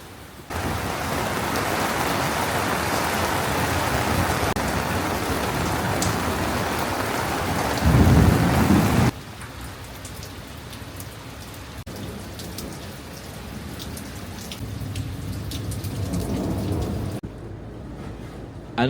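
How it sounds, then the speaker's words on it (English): Heavy rain pours down hard after weeks of heat, a loud continuous hiss of drops on surfaces, with a low rumble of thunder swelling briefly partway through before the downpour eases to a softer, steadier patter. "The rain came in hard."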